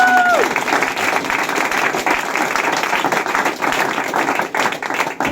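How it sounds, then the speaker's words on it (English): A crowd claps and applauds for two senators at a political event in Connecticut, a loud, steady wash of clapping that holds for several seconds with a brief voice at the start. "Let's give them a round of applause."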